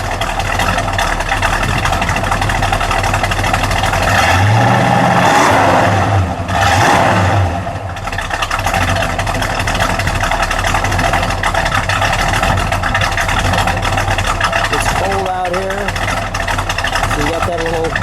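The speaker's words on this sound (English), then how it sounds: "Oh, listen to this B rumble." A 1970 Dodge Super Bee's 440 Six Pack V8 rumbles steadily at idle, loud and close, with a person talking briefly over it.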